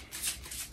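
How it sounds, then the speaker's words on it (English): A brief, soft riffle of cards being shuffled, a quick papery flutter close by. "So let's shuffle a bit more cards."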